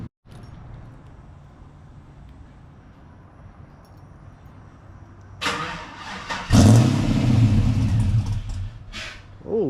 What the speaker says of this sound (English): I'm gonna give y'all a cold start because it's been a while